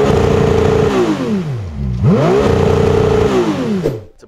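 A powerful supercar engine revs hard twice, pitch sweeping up and falling back each time, loud and close with a brief dip between bursts.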